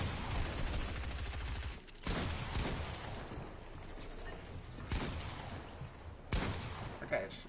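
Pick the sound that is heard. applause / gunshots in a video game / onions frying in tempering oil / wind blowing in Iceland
gunshots in a video game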